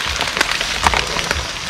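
Rain falls outdoors during a spicy eel cookout, a dense close patter with a few sharper splashing drops standing out, steady and fairly loud with no speech.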